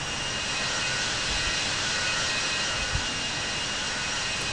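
Aircraft engine at takeoff in the Infinite Flight Simulator game, a Malaysia Airlines edition, giving a steady, loud, broadband jet roar that holds constant throughout with no talk.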